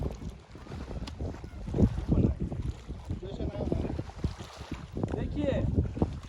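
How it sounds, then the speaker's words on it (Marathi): Cold wind gusts at Pangong Lake, buffeting the microphone in uneven bursts of low rumble, loud and close, with faint voices mixed in. "खूप अशी थंडी हवा सुटली आहे"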